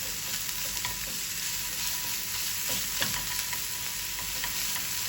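Garlic fries in hot oil in a pan, a steady close crackling sizzle with small pops, alone without talk.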